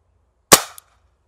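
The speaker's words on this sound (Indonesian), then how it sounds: "Lanjut tembakan ketiga." A Cobra P-60 semi-automatic airsoft pistol fires a single sharp, loud, close shot that rings out briefly, followed by a small mechanical click, with silence around it.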